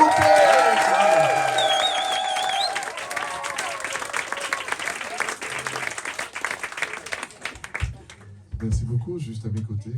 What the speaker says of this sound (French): Quand vous applaudissez comme ça, le parrain, il pense que vous ne l'aimez pas du tout.